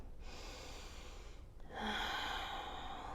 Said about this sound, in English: Taking 2 deep breaths here.